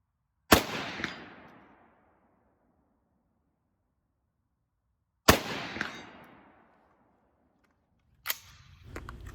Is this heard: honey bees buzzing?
no